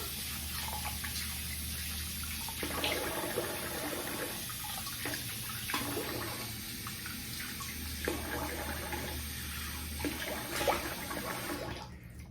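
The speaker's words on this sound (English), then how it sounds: "I'm gonna rinse the face here." Cold tap water runs steadily into a sink while a face is rinsed after a shave, with close splashing bursts over the flow and no talking.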